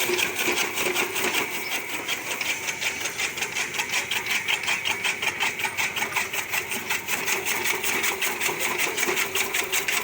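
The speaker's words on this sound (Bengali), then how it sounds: "অটোমেটিকলি একটি মেশিন, শুধুমাত্র খড়টা ধরায় দিলেই কাটতে থাকে" An automatic straw cutting machine, a medium-sized open machine, runs steadily with a fast, regular whirring chatter, loud and continuous throughout with no pauses.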